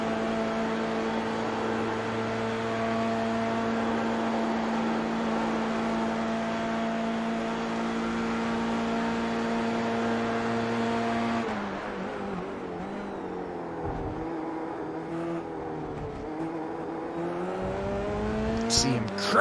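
Dallara Formula car engine screaming at full throttle through the high-speed section at Spa in a racing game, a loud sustained harmonic whine that drops and changes pitch midway as the car slows, with brief squeals near the end.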